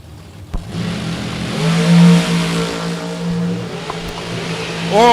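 A dragster engine at a drag race revs from a low idle into a loud, rising tone that holds, with a sharp crack early on and another rising rev at the end.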